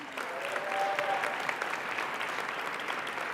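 A room of attendees applauds award finalists at a chamber of commerce event, with steady, even clapping from a sizable crowd throughout.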